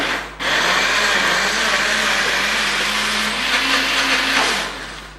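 A blender whizzes healthy pancake batter mixed with oil in one steady, loud whirring run that starts abruptly and tapers off at the end.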